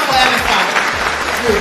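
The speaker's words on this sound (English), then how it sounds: "Everybody should clap for MFA. Clap for MFA." An audience at a church gathering claps, a dense continuous burst of applause with voices mixed in.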